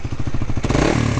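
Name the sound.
motorcycle engine revving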